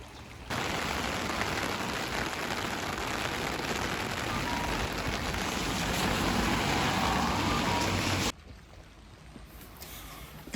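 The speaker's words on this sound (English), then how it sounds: "But then the rain came" Steady rain falls in Kyoto, a broad continuous hiss and patter that holds for about eight seconds before cutting off to a much quieter background.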